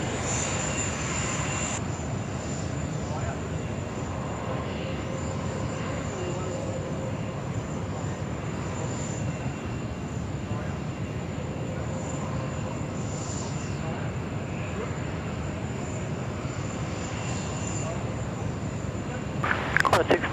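An airliner pushes back on the apron at Sydney Airport, giving off a steady, broad engine rumble that holds at an even level throughout, with a brief louder swell at the very end.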